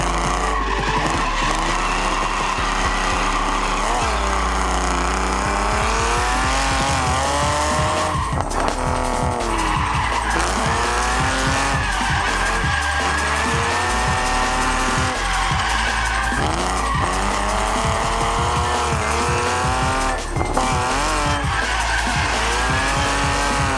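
A BMW E46 and a Nissan 350Z drifting in tandem on a track, with engines roaring and rising and falling in pitch and tires squealing loudly and continuously throughout.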